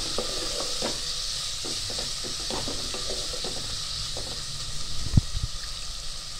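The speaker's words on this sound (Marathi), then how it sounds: "टोमॅटो आपल्याला चांगला परतवून घ्यायचा आहे तेलामध्ये." Finely chopped tomato sautés in oil in a pan, a soft continuous sizzle and hiss broken by light stirring scrapes, with a single louder knock toward the end.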